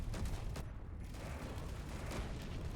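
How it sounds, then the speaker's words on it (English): Ship artillery turrets trade fire in Space Engineers, a quick faint run of muffled gunfire bursts rolling over a constant low rumble. "let's look at those two ships shooting it out"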